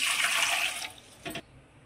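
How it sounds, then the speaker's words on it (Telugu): Water pours from a jug into a pot set on a gas stove for noodles, a brief bright gush that cuts off, followed by a short second splash. "2 చెంబులు అయితే వాటర్ వేసుకున్నా"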